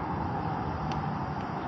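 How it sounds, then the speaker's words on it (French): Steady car traffic hum from a nearby motorway, faint and continuous, with no distinct vehicle passing. "les bruits des voitures"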